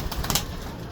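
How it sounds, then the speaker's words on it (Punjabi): A Cheena pigeon gives a soft, brief coo up close, low and breathy against a steady background hiss, with no talking. "ਇਹ ਚੀਨਾ ਕਬੂਤਰ ਆ ਜੀ"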